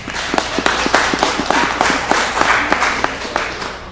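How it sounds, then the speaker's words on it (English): An audience claps at a girls' volleyball broadcast in a gym: a close, lively burst of many hands in quick overlapping beats, alone without talk, fading slightly toward the end. "If you're not a Swift fan, please clap."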